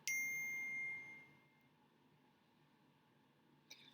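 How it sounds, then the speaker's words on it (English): A phone's text message notification sounds as a single bright, bell-like ding that rings out clearly and fades over about a second, leaving faint room tone afterward. "I just heard a ding, somebody texted me"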